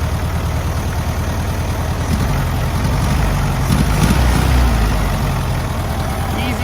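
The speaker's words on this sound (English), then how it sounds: "This engine has a fresh oil change, a brand new carburetor, recent ignition tune-up, and it's running and sounding great." A 1970 Volkswagen Beetle's air-cooled 1600cc single port engine idles loudly and steadily close by, a constant low rumbling drone with a slight rise in the middle.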